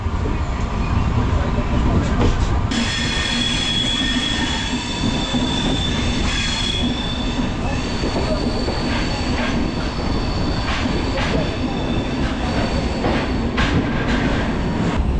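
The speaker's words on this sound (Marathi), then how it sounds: "बोगद्यानंतर आता आपण भोके स्टेशन क्रॉस करतो आहे" A Konkan Railway train running along the track near Bhoke station after a tunnel, with a loud constant rumble, wheel squeal and rattling heard from on board.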